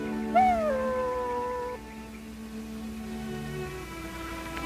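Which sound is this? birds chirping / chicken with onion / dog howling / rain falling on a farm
dog howling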